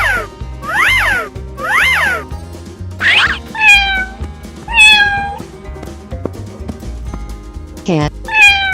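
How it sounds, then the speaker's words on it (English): A cartoon cat meows repeatedly, loud rising-and-falling calls in a quick series over a steady musical backing, followed by a brief squeal near the end. "Cat."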